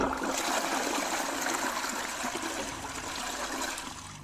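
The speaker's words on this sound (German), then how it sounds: "einmal Klospülung betätigt" A toilet flushes in the video game Massacre At The Mirage, a steady rushing, gurgling stream of water that stays fairly loud and close, tapering only slightly across several seconds.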